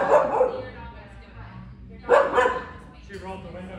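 Inside a car outside a cafe, an Irish setter lets out two separated loud barks about two seconds apart, while people talk nearby throughout.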